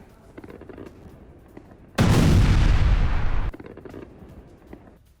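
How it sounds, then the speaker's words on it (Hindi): A single loud, sustained roar of gunfire or a blast from a Ukrainian Leopard tank attack, lasting about a second and a half over a quieter background of crackling noise. "ये यूक्रेनी सेना का लेपर्ड टैंक से हमला है"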